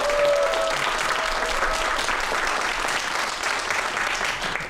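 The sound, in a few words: audience applause welcoming a guest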